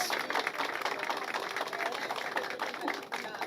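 A crowd applauding municipal guards at a public ceremony, dense continuous clapping from many hands at an even, moderately loud level throughout.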